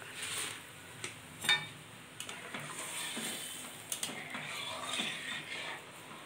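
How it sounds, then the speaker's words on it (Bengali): Mustard paste with green chilli being stirred into hilsa fish in a pan, giving soft, quiet scraping and light sizzling with a few sharper clinks of the utensil against the pan. "এখন আমি দেবো নাড়াচাড়া"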